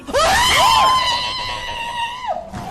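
A loud, sustained high-pitched scream rings out during a Twitch livestream, rising sharply then holding a long, strained wail for about two seconds before breaking off.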